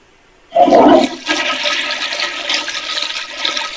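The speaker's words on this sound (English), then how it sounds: "why do you continue to keep flushing the toilet?" A toilet flushes with a sudden loud rush of water that settles into a steady, gurgling refill, heard up close with no voices.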